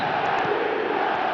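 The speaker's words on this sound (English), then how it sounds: "the crowd level has gone up a notch or 10" A football stadium crowd roars loud and sustained after a Manchester United goal, a dense wall of cheering with no break.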